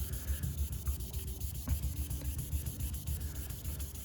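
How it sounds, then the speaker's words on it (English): Close, rhythmic rubbing strokes as a Porsche 914's paint is sanded, a soft scratchy sound repeating back and forth at a steady pace, with no talking. "I'll need to tackle each those with a little sanding targeted in that area"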